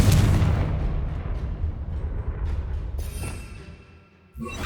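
A Confringo spell explosion from Hogwarts Legacy lands as a loud, deep boom at the start, then rumbles and fades over a few seconds before a short burst near the end.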